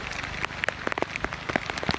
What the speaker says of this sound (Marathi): आता मस्त पावसाने सुरुवात केली आहे